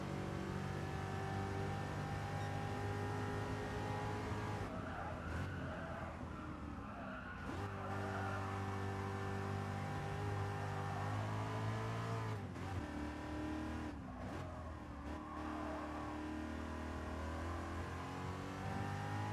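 A race car engine in a racing video game held at high revs, a loud continuous whine that dips and climbs with gear changes and brief lifts, with occasional tyre-skid noise and no talking.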